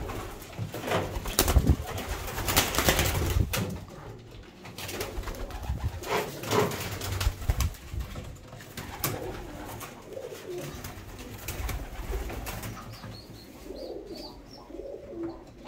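Budapest Deres Goylak tumbler pigeons cooing in a loft, repeated soft throaty coos and occasional wing shuffles, close and fairly quiet, with no talking.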